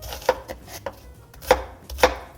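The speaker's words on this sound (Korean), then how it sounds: "양파는 팬에서 볶아줄 거라 그냥 적당히 작게 썰어주시면 돼요." A kitchen knife chops an onion into small pieces on a board for a vegan tomato soup: four or so sharp, close knocks at an uneven pace with quiet gaps and no talking.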